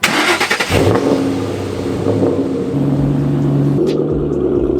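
A Ford Mustang GT engine cranks and catches, then revs up loudly and settles into a steady, close rumbling idle.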